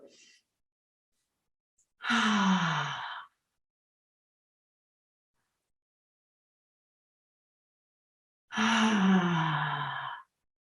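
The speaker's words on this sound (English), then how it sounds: "And now take 3 deeper breaths." Two slow, deep breaths during a guided meditation, each a soft, airy exhale lasting about a second, separated by a long stretch of silence.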